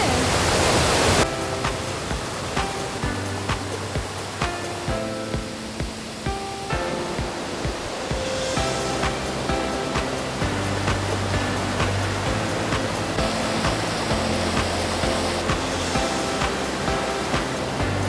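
Mountain valley stream in a forested gorge, rushing water giving a steady broadband wash that runs the whole time, close and fairly loud, with a few brief voices and laughs over it at the start.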